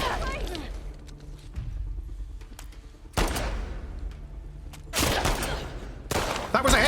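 Gunfire in The Last of Us Part II comes as several sharp, loud bursts, a single crack followed later by clustered volleys, against a quieter background of game ambience.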